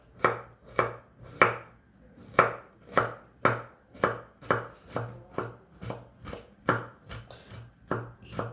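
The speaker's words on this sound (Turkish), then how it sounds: "Kabağı da rendelemeyeceğim. Çok küçük bir şekilde doğrayacağım." Steady knife chopping zucchini into small pieces on a cutting board, about two quick strokes per second, close up and crisp, with no talking.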